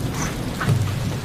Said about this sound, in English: We're going back as it started raining.